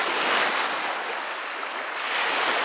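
Steady rush of breaking ocean surf at high tide, broad and continuous, with wind noise buffeting the microphone throughout.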